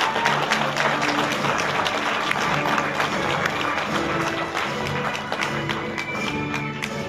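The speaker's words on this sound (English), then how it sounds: "Can you give her a hand clap?" A church congregation applauds a kindergarten graduate, steady sustained clapping from many hands with a faint murmur of voices mixed in, holding loud throughout.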